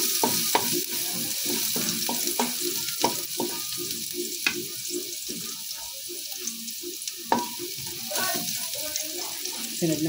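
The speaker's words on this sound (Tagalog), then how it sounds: "At ating hahaluin." Garlic stirred and frying in a pan for a chicken and chayote dish, with a steady sizzle broken by repeated scraping and clanking of a utensil against the pan, close up, and no talk.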